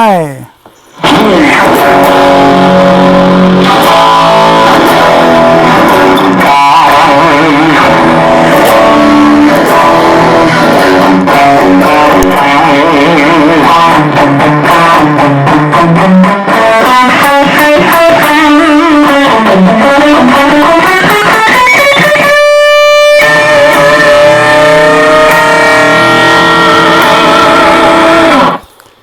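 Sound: guitar effects pedal distortion tone

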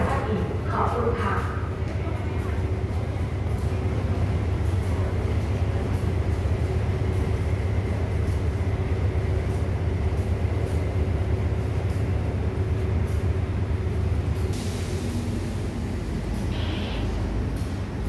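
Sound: passenger train travelling, Thai railway

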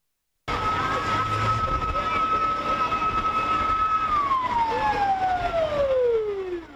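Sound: fire trucks with sirens

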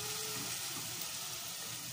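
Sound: pumpkin sizzling as it sears in a pot

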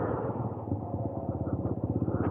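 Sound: TVS Apache RTR 200 4V motorcycle rolling in second gear, throttle released

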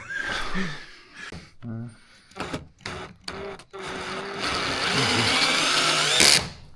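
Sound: cordless screwdriver driving screws into plywood

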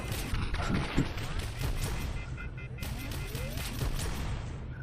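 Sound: enemies all firing at once, Space Pirate Trainer VR video game

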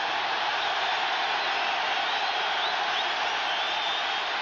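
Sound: stadium crowd roaring at Nebraska football game

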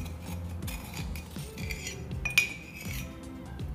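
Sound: beating milk powder and sugar mixture until creamy

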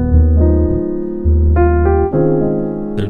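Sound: piano playing a sus chord

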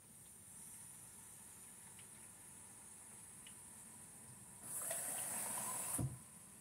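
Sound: water being poured into a steamer

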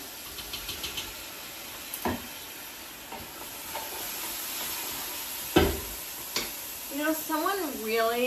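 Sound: garlic and onions sizzling while stirred in a pan

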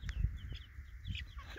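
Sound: chickens and roosters clucking

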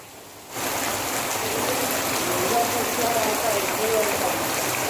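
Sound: heavy rain

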